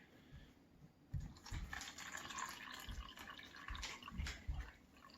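Crystal-growing solution poured slowly into a container at home, a soft continuous trickle and gurgle with a few louder sloshes, close and fairly quiet.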